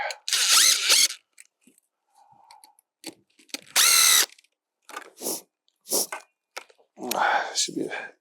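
A power tool whirs in short, loud, close bursts with ratcheting clicks while tightening a round post clamp on a Munckhof one way gravity gate, separated by quiet gaps.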